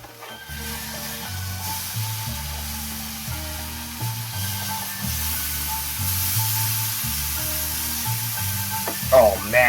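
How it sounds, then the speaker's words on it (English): Food frying in a pan with a steady, close hiss and crackle running throughout, accompanied by background music with a rhythmic bass line. "Oh man, listen to that sizzle."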